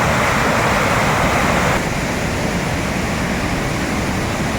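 A powerful waterfall at Moolamattam roars as a dense, loud, continuous rush of falling water, unbroken and close throughout, with no voices heard.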